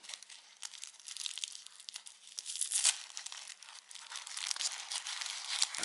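Plastic wrapping around a small cactus being carefully opened, with steady close crinkling and occasional tearing that rises and falls in bursts throughout, no talking.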